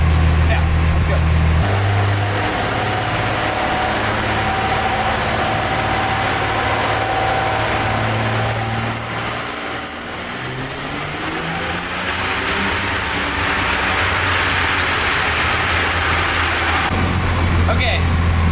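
A truck engine pulls at full load on a dyno run, a loud sustained roar whose pitch climbs steadily through the run, then drops off sharply and settles toward a lower drone, continuous and close.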